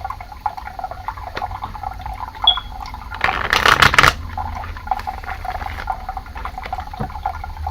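A deck of tarot cards is shuffled by hand, with soft riffling and flicking and a louder, dense burst of card noise midway through, close and clear over a quiet room with no voices.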